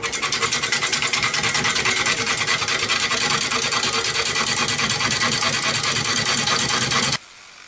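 A roughing gouge cuts a wooden bowl spinning on a lathe in a steady, loud, continuous rasping scrape with a fast regular flutter, running alone for about seven seconds before cutting off abruptly.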